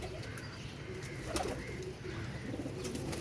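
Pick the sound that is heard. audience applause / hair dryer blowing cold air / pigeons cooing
pigeons cooing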